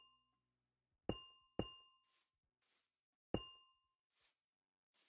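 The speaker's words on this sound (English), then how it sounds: "Little amethyst chimes." Amethyst blocks chiming in Minecraft, three bright glassy dings that ring out and decay, with softer airy shimmers between them in a quiet setting.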